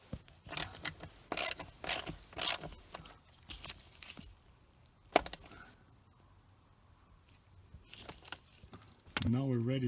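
Seat bolts on a 2008 Mercedes C300 (W204) being tightened with a ratchet, quick bursts of clicking strokes separated by pauses, close up, with a voice briefly at the end.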